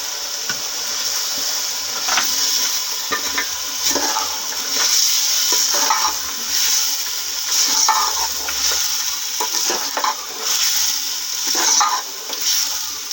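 Tomatoes stirred and frying in a pan for shaljam gosht, a steady sizzle with repeated scraping stirs throughout, close and fairly loud, no talk.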